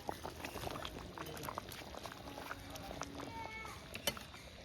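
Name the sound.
hot water and potatoes added to a pot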